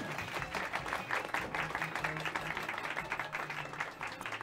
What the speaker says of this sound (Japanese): みんな大きな拍手